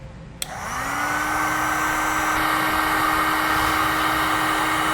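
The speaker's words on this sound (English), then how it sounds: "Now we'll use a heat gun to shrink down our butt connectors." An electric heat gun switched on to shrink butt connectors on tail light wiring, starting with a click and then a steady loud blowing whine with a constant tone, close and alone.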